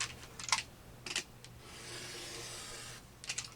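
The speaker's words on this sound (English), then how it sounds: "I'm just going to cut it from corner to corner 1 time" Scissors or a rotary cutter slice a yellow fabric square corner to corner, giving faint, close rasping cuts in short bursts with a longer steady drag in the middle, alone in a quiet room.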